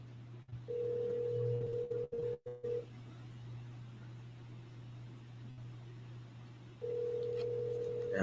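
An outgoing call rings through a telephone handset, with two long ringback tones, one near the start and one near the end, separated by a long quiet gap over a steady low hum.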